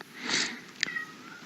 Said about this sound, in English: My cat's meowing over there.